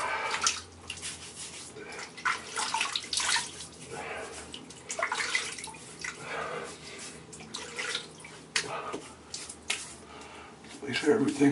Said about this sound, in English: now is wash my face with some hot water